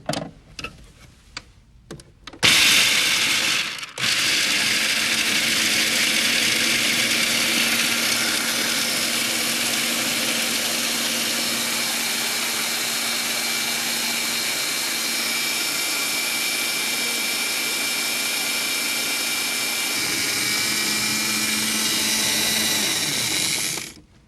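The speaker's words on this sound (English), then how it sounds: "almost need earplugs when you grind almonds" A food processor grinds almonds for almond butter with a loud, continuous whirring roar that holds steady for about twenty seconds after a few brief clatters at the start.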